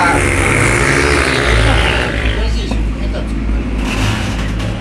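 Race cars accelerating off the start line of a European championship final at Lukhovitsy, a loud roaring surge of engines rising in pitch and then fading as the pack pulls away, with a commentator's voice over it.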